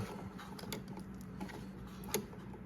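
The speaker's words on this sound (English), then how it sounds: "And then I'll screw on the wire nut. And I put this on just about as tight as I can turn it." A wire nut twisted tight onto electrical wires in an outlet box, making faint, close, irregular plastic creaks and small clicking ratchets over a couple of seconds.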